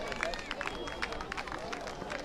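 Audience applause at a local outdoor community event, a moderate, steady crowd clapping with background chatter and murmuring voices throughout.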